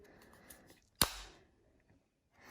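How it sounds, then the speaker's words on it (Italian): A smart curtain robot clicks onto its curtain rail with a single sharp, close snap, and the room is quiet before and after it. "poi lo si gira all'interno della guida e lo si aggancia"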